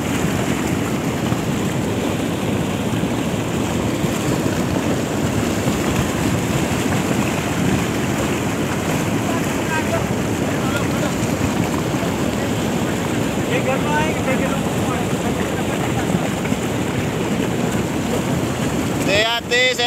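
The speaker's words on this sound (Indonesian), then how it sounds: "Hujan lebat disertai angin." Heavy rain pours with gusting wind in Lumajang during the Semeru eruption, a dense, constant roar with wind buffeting that runs the whole time, with brief talk near the end.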